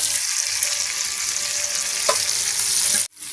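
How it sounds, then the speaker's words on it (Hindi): Tilapia fish frying on a tawa over a slow flame, a steady close crackling sizzle with a faint tap near the end, no voices. "जो हम स्लो फ्लेम पे फिश फ्राई कर रहे"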